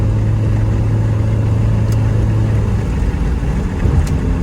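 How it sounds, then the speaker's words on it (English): A 1991 Honda Accord fitted with NGK laser spark plugs runs with a steady, loud engine drone from inside the car as it is given gas, a low hum holding evenly throughout without voices. "give it a little gas just to see how it works"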